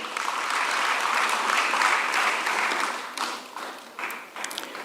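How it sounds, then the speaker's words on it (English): Sustained applause from a lecture audience at a university public lecture on technical and vocational education, a dense, steady clatter of many hands that thins and grows patchier toward the end. "Please, let's clap for him."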